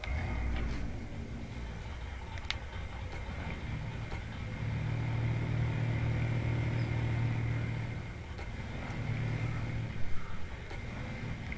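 A video game truck running with its stock engine sound, a steady low drone that swells slightly midway and carries throughout without talk.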